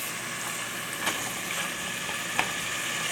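Onions frying in a pan, a dense, close sizzle that runs without a break, with two brief scraping clicks as they are stirred, no voices.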